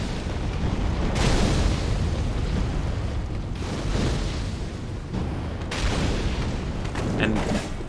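Fireball spell explosions boom in Dark Souls 3, several heavy rumbling blasts in succession, each swelling and fading, with brief quieter gaps between them.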